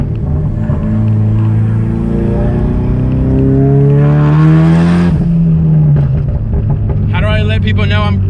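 A Ford Mustang EcoBoost with a burble tune downshifts, its engine note rising and falling through a sustained drone, with crackling pops near the end and someone speaking over it.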